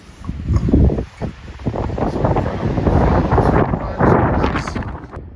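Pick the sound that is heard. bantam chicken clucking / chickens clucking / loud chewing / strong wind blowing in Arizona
strong wind blowing in Arizona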